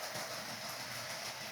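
An HO scale model steam locomotive, a 2-10-10-2 built from Rivarossi parts, runs on its rails with a steady, faint mechanical whir and light rhythmic clicking, no one talking.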